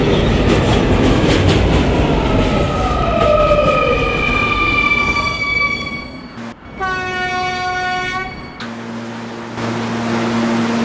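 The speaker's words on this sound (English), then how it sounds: "This is a Kennedy Main Street bound 11 local train." A New York City R220 subway train on a local run rumbles loudly along the track, with a brief dip, then tonal motor whines and a high electric hum as it runs.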